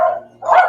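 Two quick, loud, close dog barks sound back to back with a short gap between them, and no talk over them.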